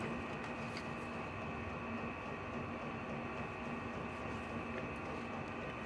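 A Chinese diesel heater runs in a small enclosed space at its first startup, giving a steady, fairly loud mechanical hum and whir with a constant drone that holds unchanged throughout, heard alone.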